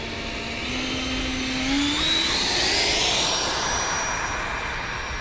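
A Freewing T-45 Goshawk 90mm RC jet on its maiden flight takes off, its ducted-fan whine loud and steady, rising slightly in pitch as it climbs away, with no voices.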